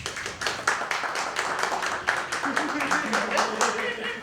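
Audience members answering a question by clapping, scattered hand claps that build into a brief ragged burst, with a voice speaking underneath.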